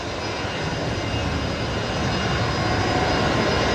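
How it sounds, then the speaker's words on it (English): Fokker airliner with Rolls-Royce Tay engines taxiing into its bay at Brisbane Airport: a loud, steady jet roar and whine that holds constant and swells slightly toward the end, with no voices. "The Fokker pulling into the bay, making a bit of a racket there."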